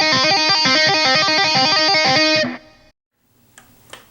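Electric guitar with distortion playing a song's pre-chorus lick slowly, a steady run of tapped and picked notes for about two and a half seconds, ending with a ringing fade, then faint string noise.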